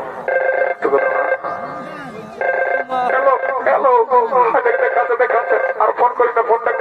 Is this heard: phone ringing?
yes